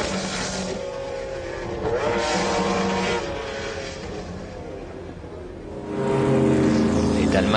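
McLaren race cars at the 1995 24 Hours of Le Mans, engines roaring past at a distance, swelling and fading twice with a louder pass building near the end, under no clear talk.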